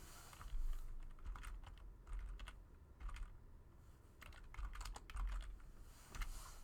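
Quiet keystrokes on a computer keyboard come in short bursts of light clicks with brief pauses between, as numbers are entered one at a time.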